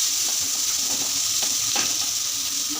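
Two chopped onions sauté with cumin seeds in hot oil, a loud even hiss of frying close up with a couple of soft stirring scrapes, nobody speaking.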